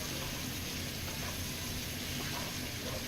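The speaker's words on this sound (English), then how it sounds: "Get them all coated in oil. And let them cook down and saute." Chopped vegetables coated in oil sauté in a pan for venison chili, giving off a faint, steady sizzle and hiss with no break.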